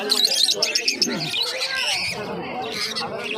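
Pigeons and other caged birds call and coo at a busy pet market, a dense layer of chirps and squawks with market voices mixed underneath.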